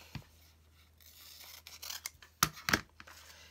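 Scissors snipping paper to make a flip-out pocket: a quiet opening snip, soft rubbing and rustling, then two crisp, close cuts near the end.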